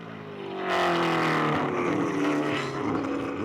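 Race car engines from a Mustang and a Corvette at the SCCA Runoffs Grand Touring 1 race roar past, rising sharply to a loud, rasping drone that holds steady as the cars speed by.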